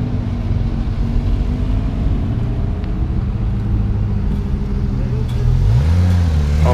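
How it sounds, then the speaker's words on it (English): Lamborghini and Porsche sports cars roll in to park, a steady loud engine rumble building into a rising rev near the end. "there are going to be Lamborghinis and a 20 Porsches coming in to park"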